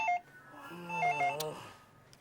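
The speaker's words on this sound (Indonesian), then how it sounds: "Kamu nggak dengar ada telepon?" A phone rings with a short melodic electronic chime, close and fairly clear, ending abruptly after a couple of seconds.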